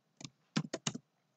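Typing on a computer keyboard while writing a C++ program: a short burst of about five quick, close keystroke clicks in an uneven rhythm, with a single key tap after a brief pause, heard alone.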